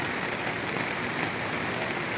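Heavy rain pours steadily onto surfaces, a dense, even hiss of drops with no pauses and no voices.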